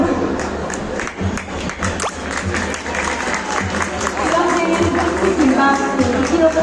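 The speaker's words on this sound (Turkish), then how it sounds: "Sizleri alkışlıyorum." A crowd at a university graduation ceremony applauds steadily, dense clapping rising slightly toward the end, with some voices mixed in.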